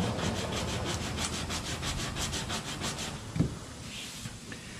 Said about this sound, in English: so let's just sand it